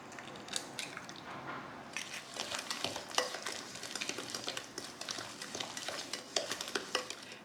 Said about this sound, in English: So now I'm going to add an egg and mix it in.